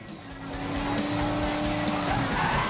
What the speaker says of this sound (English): Drifting around the corner, trying to get best driving line as possible